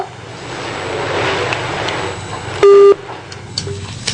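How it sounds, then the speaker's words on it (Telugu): A phone line drops and sounds a short, loud electronic tone lasting about a third of a second over the background noise of a televised call-in interview. "లైన్ కట్ అయినట్టుంది"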